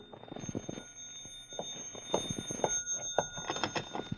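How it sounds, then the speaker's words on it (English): A telephone ringing as a radio drama sound effect, a steady high electric ring running throughout under busy, irregular clattering noises. "And then the phone rang."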